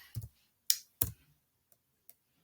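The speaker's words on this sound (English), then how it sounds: "So I'm just typing this out rather than having it already" Scattered clicks on a computer keyboard, a handful of sharp taps with uneven gaps, the last two faint, heard close and alone with no talking.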